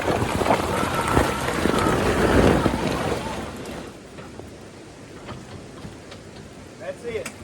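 Intimidator 48v 4x4 electric UTV driven at full throttle in low range with open diff on muddy, slick ground, heard as a rushing, windy drive noise that is loud at first and then eases off.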